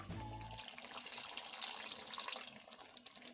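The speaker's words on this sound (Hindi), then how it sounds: "अब हम इसमें तकरीबन आधा कप पानी शामिल करेंगे" About half a cup of water is poured into biryani masala in a home kitchen, a short close splashing pour that trails off, following a brief low hum at the start.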